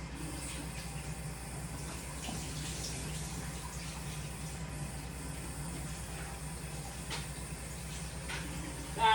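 Tap water running steadily over potato steak fries as they are rinsed in a kitchen, a constant close hiss and splash with a brief bump at the very end.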